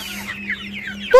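A hen that has just caught an earthworm clucks softly a few times nearby, ending in a sharper squawk, with a low steady hum underneath.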